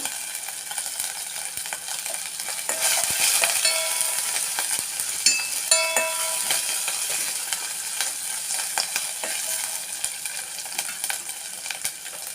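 Curry with curry leaves frying and being stirred in a pan for a dosakaya dry fish curry, with a steady close sizzle, scraping stirs and clinks of the spoon against the pan, and no talking.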